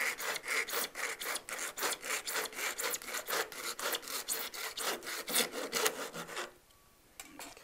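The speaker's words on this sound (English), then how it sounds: "line it up with a mark on the jig and cut the lens in half" A plastic eyeglass lens is hand-sawn in half on a jig. Quick, steady back-and-forth rasping strokes sound close and continuous for several seconds, then stop abruptly near the end with no talk.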